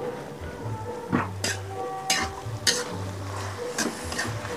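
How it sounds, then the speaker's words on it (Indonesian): Tofu and potato pieces stirred in a pot of boiling, lightly sweetened water in a home kitchen, giving a bubbling simmer with repeated scraping stirs and a low hum close by, no talk. "Nanti kalau sudah mendidih, dimasukkan tahunya sama kentangnya."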